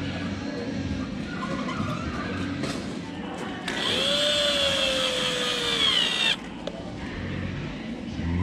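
A power driver runs screws into a skateboard truck plate during a Snyder Super Deluxe plate upgrade, one sustained whine of about two and a half seconds rising over workshop noise, near and fairly loud.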